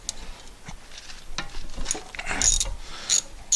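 Ratchet loosening the rear brake caliper slide bolts on a Honda CR-V, heard as a series of close, quick mechanical clicks and pawl ratcheting in short bursts, with no talk over it.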